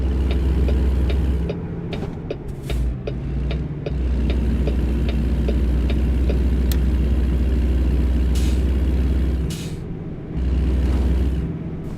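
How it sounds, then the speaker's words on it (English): Truck engine in American Truck Simulator, a loud steady low rumble with idling drone and brief breaks, occasional clicks and air-brake hiss, close and without talk. "I like that engine sound actually, rumbling."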